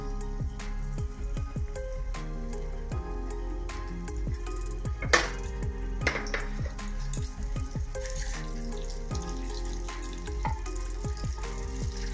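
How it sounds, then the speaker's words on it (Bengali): Eggs with a little salt fry in heated oil, a steady crackling sizzle with scattered sharp pops and spits throughout. "এবার আমি ডিমগুলোকে আস্তে করে একটু নুন দিয়ে জাস্ট ভেজে নেব। তেলটা একটু গরম হলো।"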